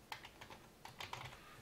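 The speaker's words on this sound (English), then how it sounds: "You can start this by typing activate" Keys tapped on a computer keyboard during game development work, a few quick irregular bursts of clicks with short pauses, fairly quiet and close with no talking.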